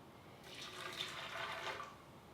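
Half a cup of boiled hot water pours into a container of almonds in a home kitchen, a short continuous splashing stream that starts abruptly and tapers off after about two seconds.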